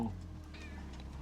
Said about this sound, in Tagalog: Pakakainin ko yung pusa ko.